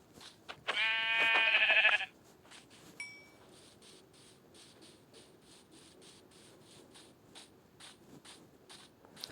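A single loud synthetic sheep bleat from a video game rings out near the start, then fades into faint scraping and soft clicking game sounds.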